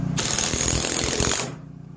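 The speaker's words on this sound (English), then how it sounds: "you'll hear the ratcheting sound that this makes, and through this big screw, because it's got to go through two pieces of wood" A ratcheting driver sinking a big screw through two pieces of wood, giving a loud, close burst of rapid clicking ratchet and grinding for about a second and a half before it stops abruptly.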